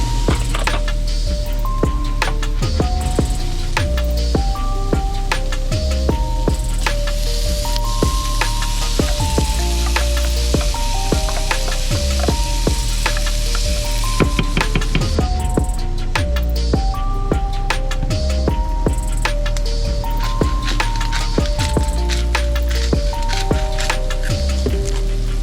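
Corned beef and onions fry in a pan with a continuous hissing sizzle, steady throughout but partly buried under loud rhythmic backing music.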